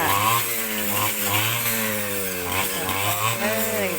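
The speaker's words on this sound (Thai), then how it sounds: "ตอนนี้คุณลุงกำลัง ตัดหญ้าตรงป่าดอกกระเจียว" A grass cutter runs steadily in a garden as an uncle trims grass in a patch of krachiao (Siam tulip) plants, its engine droning loud and close with slight pitch dips throughout.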